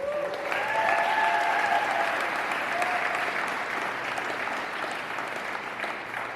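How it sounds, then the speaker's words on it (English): Guests at a Michigan wedding reception break into sustained applause, a steady, even roar of many hands clapping that continues for several seconds without talk. "they deserve a great round of applause"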